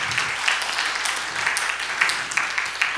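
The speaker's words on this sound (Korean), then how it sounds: "큰 박수로 고마움을 표시했으면 좋겠습니다" An audience at a school information session for a domestic program applauds steadily, a dense patter of many hands clapping at moderate volume, with no talking.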